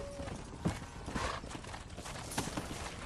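Horse hooves clip-clop at a steady walking pace in the Western game Red Dead Redemption, with a faint mechanical tone near the start and low background ambience.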